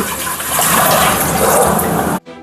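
Water pours steadily and loudly into a heavy-bottomed pot on a gas stove for about two seconds, then stops abruptly.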